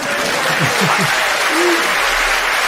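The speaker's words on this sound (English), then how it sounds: "We'll go ahead and get the clap out on them." Applause from an audience on a show, a steady wash of many hands clapping loudly and close, with a voice briefly speaking over it.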